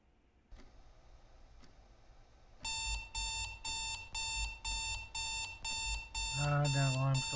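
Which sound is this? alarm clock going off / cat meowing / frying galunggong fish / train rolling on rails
alarm clock going off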